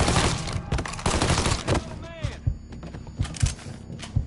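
Dense bursts of gunfire in the Mafia video game, heavy at first, then thinning to scattered single shots over a busy mix of game sounds and shouting voices.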